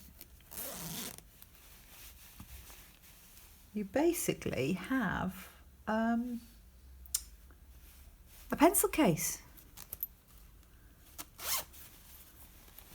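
Zip being closed on a handmade pencil case, a few short ratcheting zipper pulls scattered between stretches of a person talking nearby.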